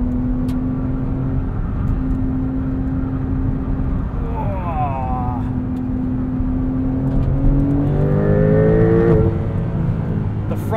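A 2021 Porsche 911 Turbo S engine in Sport Plus mode drones loud and steady inside the cabin, its pitch holding then climbing as the revs rise, with a voice talking over it.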